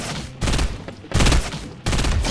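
Burst assault rifle fire in Fortnite Mobile, three loud, dense rapid bursts in quick succession, heavy and close, with no voices over them.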